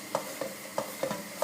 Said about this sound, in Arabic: كما تشوفوا بدات تطشطش هيك